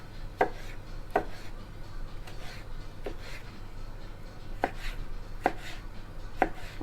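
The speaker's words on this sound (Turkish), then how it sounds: "Evet domateslerimizi de küp küp doğruyoruz" Tomatoes are diced into cubes with a knife on a cutting board, a run of crisp, evenly spaced chops close by over a quiet background, no talking.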